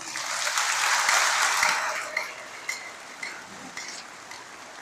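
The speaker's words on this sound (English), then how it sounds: "Please join me in a round of applause" Audience applause at a high school graduation, a broad wash of clapping that swells loud early, then thins out into scattered claps fading toward the end.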